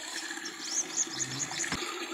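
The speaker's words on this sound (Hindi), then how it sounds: "तो ये जी पानी भर रही है।" Water runs from a tap into a container in a Pakistani village at night, a soft steady trickle and splash heard close, with faint bird chirps in the background.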